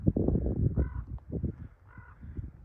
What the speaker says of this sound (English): I know I'm in a good spot when I'm at the top of my exploration and I got a crow